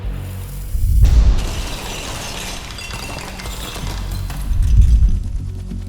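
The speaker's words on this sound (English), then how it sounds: "a large gas explosion occurred." A gas explosion tears through a coal mine as two heavy, deep booms roughly four seconds apart, each with a rumbling low-end swell and crackling debris between them.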